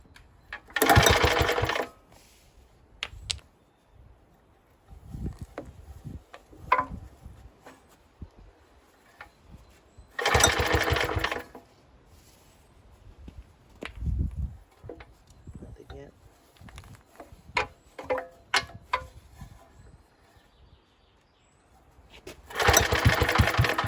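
A worn 1950s Suffolk Iron Foundry small engine is pulled over repeatedly and briefly fires in short sputtering bursts between quieter rustling and clanks, with someone talking in between.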